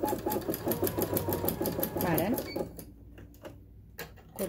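A Janome or Kenmore embroidery sewing machine stitching from a memory card pattern, its rapid needle strikes repeating in a steady fast rhythm, close and loud, with a person talking over it before the machine stops.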